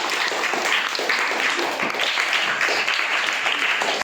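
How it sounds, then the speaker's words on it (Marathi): At a quiz programme in a Zilla Parishad primary school in Sitane, children and onlookers give a student a burst of loud, continuous applause. The clapping is thick and sustained throughout, with no clear speech over it. "प्राचीसाठी जोरदार टाळ्या वाजवायचं"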